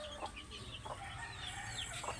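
Several chickens, including a hen, cluck intermittently at low volume in a small coop, with short calls scattered over a steady background hum.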